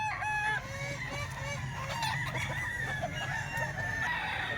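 Rooster crowing at a backyard fowl sale, loud and close, with several long overlapping crows and clucking from other birds nearby and no talk.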